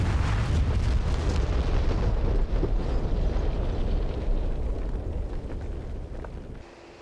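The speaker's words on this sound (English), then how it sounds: "Zoom out, because that is going to be quite the explosion." Large bomb explosions in the DCS World flight simulator, dropped as GBU-12 guided bombs from an A-10C Warthog: a dense, loud, continuous rumbling roar of rolling blasts that slowly fades over several seconds.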